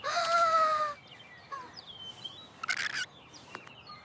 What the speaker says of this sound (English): A little bird.